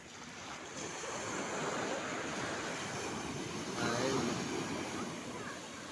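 Sea waves on Alappuzha beach in Kerala make a steady surf wash, swelling gently as a breaker rolls in, with some wind on the microphone.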